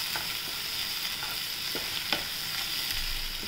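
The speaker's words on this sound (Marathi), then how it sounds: "छान त्याच्यात आपण शेंगदाण्याचा कूट टाकूया, छान परतून घेऊया।" Spring onion greens and crushed peanuts sautéing in a pan for a quick Maharashtrian bhaji, with a steady close sizzle and faint soft stirring scrapes throughout.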